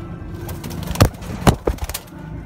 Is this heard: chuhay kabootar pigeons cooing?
yes